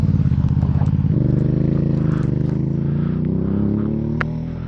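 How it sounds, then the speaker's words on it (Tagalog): A Suzuki V-Strom 650 motorcycle engine that had stalled and cooled, starting and idling with a loud, rapid throbbing pulse that steadies and settles into an even run, close by. "Sakit na motor, andar, pero mamaya titirik ulit."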